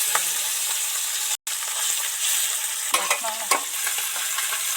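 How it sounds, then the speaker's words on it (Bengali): Amudi fish, a soft delicate fish, frying in hot oil, giving a steady broad sizzle with a few clicks of utensils turning the pieces and one brief dropout, no voices. "মাছগুলো আস্তে আস্তে ধরে ধরে ভাজতে লাগবে খুব নরম সফট মাছ তো"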